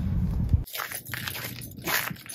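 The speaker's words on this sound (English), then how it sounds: "that crunchy sound of the ice" Crunching of thin ice underfoot during a wintry walk with a light dusting of snow, a burst of close, gritty crackling steps followed by softer scattered crunches.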